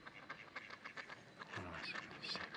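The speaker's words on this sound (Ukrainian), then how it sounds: "Тиша навкруги, царство птахів." Ducks quack and other birds call around a wild forest pond in spring, with scattered calls throughout and a louder cluster of quacks near the end, fairly close against quiet surroundings.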